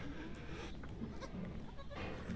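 A dairy goat in a herd pen bleats a few times in short calls over a constant low background murmur.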